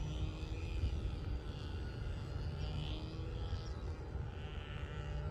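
An E-Flite Conscendo Evolution RC glider drifts by at a distance with a faint, steady motor whir, descending on its own to shed speed, under a low outdoor rumble of wind.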